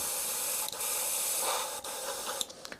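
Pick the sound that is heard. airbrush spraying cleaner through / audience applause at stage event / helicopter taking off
airbrush spraying cleaner through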